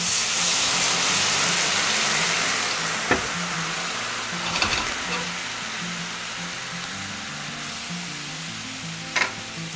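Pinot grigio hits a very hot pan of browned garlic, setting off a loud, steady sizzle and hiss that runs throughout, with a few sharp clinks of a utensil against the pan.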